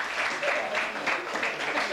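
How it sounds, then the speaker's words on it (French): Steady applause from a gathered audience honoring a woman nicknamed Miss Grenouille, moderately loud and continuous with rhythmic clusters of claps throughout. "vous pouvez l'applaudir"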